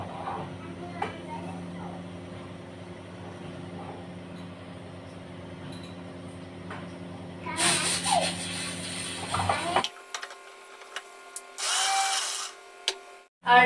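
An electric mixer grinder pulses through whole spices, grinding them to powder in short loud whirring bursts near the end, following a stretch of low household hum with someone talking.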